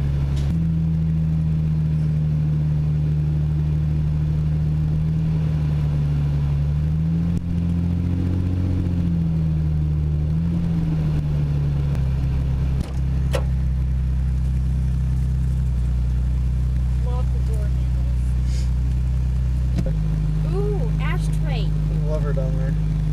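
An MK2 Toyota Supra's engine hums steadily from inside the cabin while driving, with low tones shifting as it changes pace. Passengers chat over the drone.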